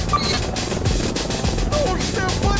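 In the video game Delta Force, a helicopter comes in to land, its rotor beating as a loud, steady, choppy roar under voices talking.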